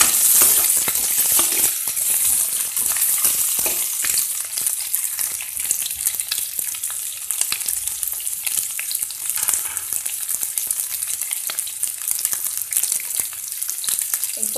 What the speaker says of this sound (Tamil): இப்போ வெங்காயம் ஃப்ரை ஆகிட்டு இருக்கும்போது